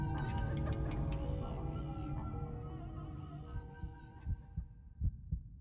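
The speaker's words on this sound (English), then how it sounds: "A world devoid of sound where I could only hear my heartbeat" Steady thudding heartbeat pulses in the Racing Lagoon video game, layered over a dense droning hum and background music, with the beats growing more distinct and punchy toward the end.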